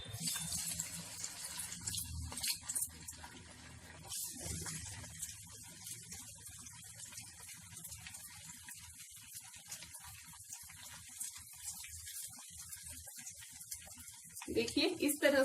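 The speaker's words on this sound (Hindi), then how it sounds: "पकोड़े हमारे अच्छे से फ्राई हो रहे हैं।" Chicken pakoras deep-fry in hot oil, a continuous crackling hiss with scattered pops that stays close and fairly quiet throughout, while a voice talks over it at times.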